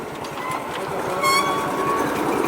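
A motorbike-powered rail cart on the tracks to San Cipriano, Colombia, rumbles past close by with a steady rolling clatter and a brief high whine in the middle, loud throughout.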